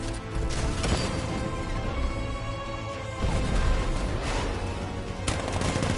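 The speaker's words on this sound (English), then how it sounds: "60mm cannon operational." Video game tank in Batman: Arkham Knight firing its 60mm cannon, booming blasts and crashing impacts over a constant roar of battle noise, loud and dense, without any speech.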